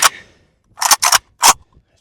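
A PSA AK101 rifle fires about four sharp, loud shots, one alone and then three in quick succession, each crack ending abruptly in silence.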